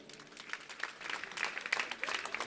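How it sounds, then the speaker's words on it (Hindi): Faint applause from an audience at a religious discourse gathering, steady crackling claps that build slightly and continue for the whole moment, heard from a distance. "ताली तो बजाइए आप लोग।"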